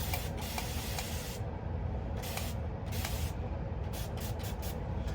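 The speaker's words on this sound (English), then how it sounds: "So, we're gonna spray." Several quick hissing spritzes of distilled water from a spray bottle onto a grow pod, some short and some longer, over a steady low background hum.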